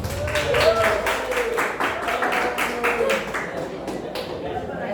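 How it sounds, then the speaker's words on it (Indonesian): A school audience claps steadily for several seconds, dense overlapping applause with some louder individual claps, fading slightly toward the end. "tepuk tangan untuk diri sendiri dulu ya"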